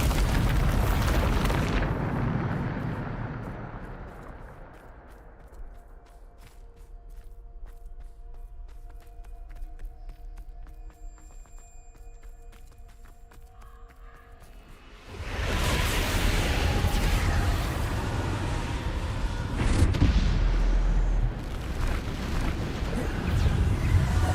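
Bombarda spell explosions in Hogwarts Legacy: a loud booming blast fades into a quiet, ringing lull, then heavy roaring explosions and rumbling debris return and keep going, with a few sharper pops on top.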